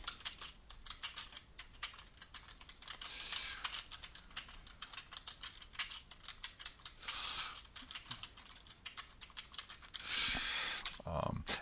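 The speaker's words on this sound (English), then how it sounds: "as we're typing the comments" Fairly quiet, steady keystrokes on a computer keyboard tapping in quick irregular runs, with a few louder clacks near the end and a voice talking over the typing.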